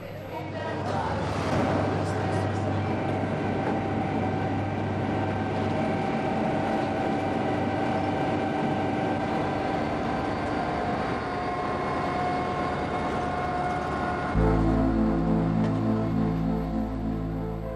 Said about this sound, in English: This one, for example, is the radio train.